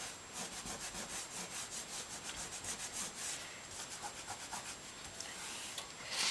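A thumb rubs back and forth over gold foil tooled lettering in a steady, rhythmic scrubbing, the dry friction close and soft with a faint high whine in the background.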